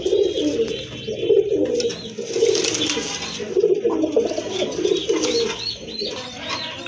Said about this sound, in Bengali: আর এখন কিন্তু আরেক জোড়া কবুতর দেখতে পাচ্ছেন।